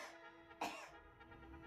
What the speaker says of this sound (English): You've a bad cough?